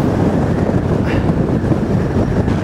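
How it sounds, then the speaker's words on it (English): Strong gusting wind blows outdoors near a fence after Storm Kathleen, buffeting the microphone with a loud, constant low roar and no talking. "the wind is just pushing me"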